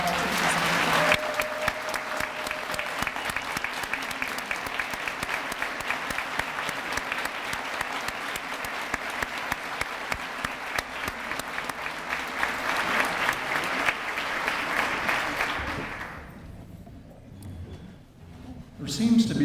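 A large audience applauds warmly at a Teachers of the Year recognition ceremony, a dense, steady roar of clapping that runs for about sixteen seconds before fading abruptly into a quiet room.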